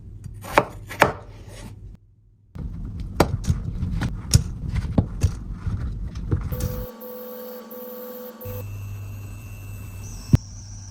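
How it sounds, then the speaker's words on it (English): A knife cuts peeled potatoes into bite-sized chunks, producing repeated crisp thuds on a cutting board over a low steady hum, followed by electronic tones and a mechanical whir. "Cut into bite-sized chunks."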